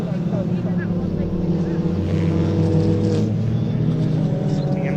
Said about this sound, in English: Hear the whine of the superchargers on these